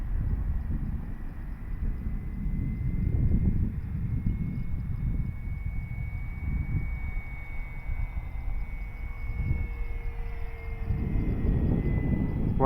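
An FMS Cessna 182 RC model airplane flies and rolls on a windy day, its electric motor a thin steady whine over heavy low wind buffeting that swells and fades.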